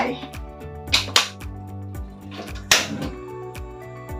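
A gas stove burner is switched on under a pot of water for Thai salted boiled pork. Several sharp igniter clicks snap close by, with a tonal background hum underneath.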